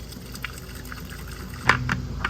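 Antifreeze poured from a bottle onto a swimming pool return plug while winterizing the pool, giving a soft, close liquid trickle with a few brief splashy bursts near the end over a steady background hiss.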